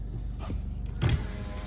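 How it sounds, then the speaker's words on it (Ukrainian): A Honda CR-V 2.2 i-DTEC electric power window running briefly, a short whirring motor hum with a soft clunk as it stops, close by and quiet, no speech. "електропривід вікон, все працює"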